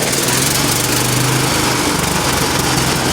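A 212 small gasoline engine runs loud and close with a steady high buzzing drone, its pitch shifting slightly with throttle, and no talking.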